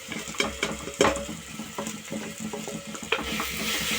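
Chilli powder, turmeric, coriander powder and salt sautéing in a pan for rasam, with a low steady sizzle broken by scraping stirs and light clinks of a spoon, close by.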